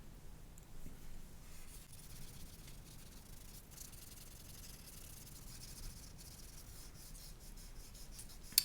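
A Q-tip dipped in oil rubs across paper to blend coloured pencil or crayon, giving a faint, soft, continuous scratchy swish. It is quiet and close, with a small knock near the end.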